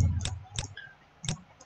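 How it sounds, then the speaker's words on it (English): Computer mouse clicks at a desk, three small, crisp, quiet clicks spaced irregularly over under two seconds. "I will right click on this sketch."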